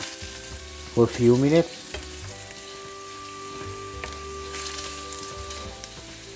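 Prawns sizzle steadily in oil in a pan on medium heat, a close, even frying hiss throughout, with a brief spoken phrase near the start.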